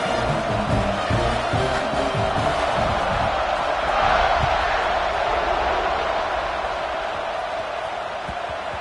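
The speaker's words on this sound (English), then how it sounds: "this crowd is buzzing after that last score" A college football stadium crowd at Michigan versus Georgia buzzes after a touchdown, a steady, broad roar that swells slightly midway and then eases off.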